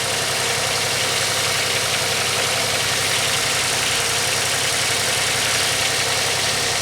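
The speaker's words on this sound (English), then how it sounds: "Those lifters are making noises when it's cold." A cold Pontiac Grand Am engine idles with noisy lifters, a steady, loud, close mechanical drone with a fine ticking texture running unbroken throughout, no voices.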